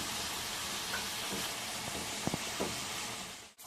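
Fish pieces frying in oil for a homemade fish pickle, a steady low sizzle and hiss throughout with a few soft clinks of stirring near the end, no talking.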